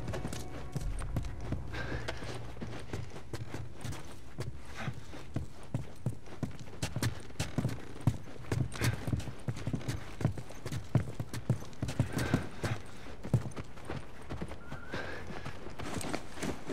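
Horse hooves clip-clop steadily in The Last of Us gameplay, a continuous walking rhythm of sharp hoof strikes close by, with an occasional whinny and faint movement noises around them.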